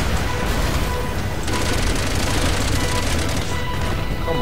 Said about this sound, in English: That's my sniper rifle.